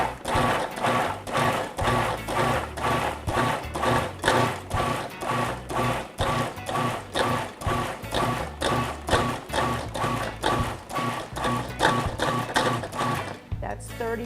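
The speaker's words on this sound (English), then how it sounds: "I'm going to pulse all of my vegetables to really, really finely mince them" Food processor pulsing vegetables for jerk chicken seasoning: a long run of about thirty regular, rapid motor bursts with chopping thuds, close and even, ending in a brief pause.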